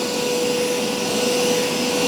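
A Hoover Power Scrub Deluxe carpet cleaner runs with a loud, steady motor roar and whine on carpet, constant and close, with no voices.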